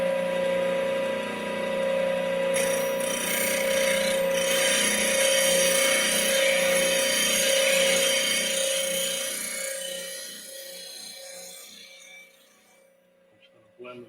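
A grinder shaping the nose of a woodturning spindle gouge: a steady high-pitched motor whine with rasping grinding, loud and continuous before fading as the tool spins down.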